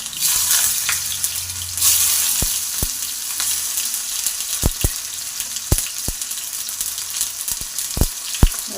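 Tomatoes fry in hot oil with a loud, continuous sizzle, broken by several sharp clicks and taps of a spoon against the pan.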